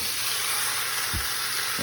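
Beef sizzling and frying in a hot pot for sauce piquant, a steady loud broadband hiss throughout with no talk.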